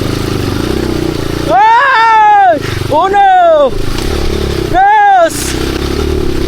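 Someone's motorcycle engine revs loudly in three sharp bursts that rise and fall in pitch between steadier idling. Someone shouts a count over the engine.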